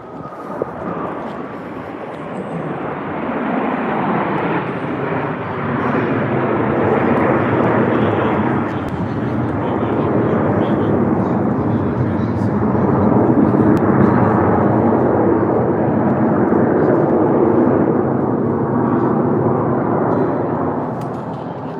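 Blue Angels jets performing a Delta roll pass overhead at an airshow, a loud, continuous jet roar that swells and holds steady for over twenty seconds with no talking.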